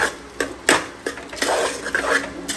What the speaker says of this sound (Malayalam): ഇത് ഇത്രയും ആഡ് ചെയ്ത് കൊടുത്തിട്ട് നല്ലതുപോലെ ഒന്ന് ഇളക്കാം.